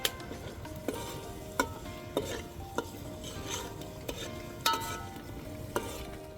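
A spoon stirs a Surti undhiyu mixture with spices in a pot, giving a steady soft scraping sizzle broken by several sharp clinks against the vessel, close and alone with no talk.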